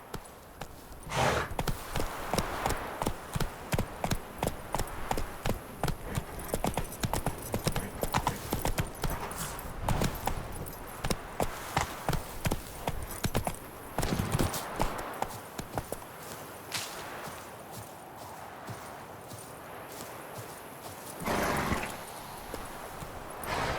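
Roach, the horse in The Witcher 3, gallops with a rapid, steady clip-clop of hooves close up for most of the run, slowing briefly with a snort, under faint game ambience.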